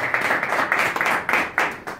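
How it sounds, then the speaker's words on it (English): A conference audience claps together for about two seconds, a patchy, uneven round of hand claps in a large hall, with no one speaking over it. "Let us clap for ourselves one more time."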